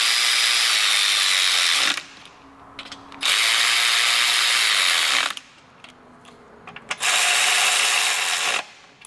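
A ratchet wrench tightens the lower rear bolts near the muffler on a Piaggio BV400 scooter: three sustained bursts of fast metallic clicking, close and loud, with short quiet gaps between them.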